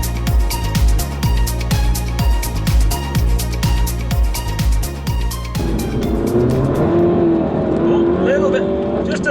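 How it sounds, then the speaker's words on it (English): A 285bhp Lohen-tuned Mini GP3 accelerates hard with a touch of wheel spin, its engine rising in pitch through sharp gear changes before the roar drops away, with road and tyre noise continuing afterward. "Touch of wheel spin there."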